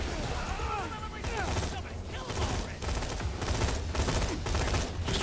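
Rapid, continuous gunfire from the Borderlands 2 video game, played as the character Axton, keeps up a steady barrage through the whole stretch, with a voice talking faintly underneath.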